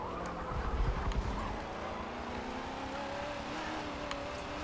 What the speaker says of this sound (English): short shift into second. Just trying to get a bit of that engine braking in.